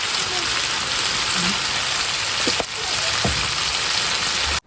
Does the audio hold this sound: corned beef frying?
yes